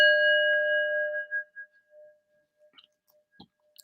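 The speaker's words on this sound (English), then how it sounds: "I've got now the bell." A single bell strikes once with a clear, bright ring that decays over about a second, followed by a few faint small clicks in near silence.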